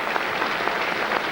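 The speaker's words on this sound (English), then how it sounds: "Would you please keep your applause going for Alistair Smart and John Spencer and John" Sustained audience applause fills the hall at the 2006 Logies awards ceremony during the Play School Hall of Fame induction, a dense, steady patter of clapping with no voices above it.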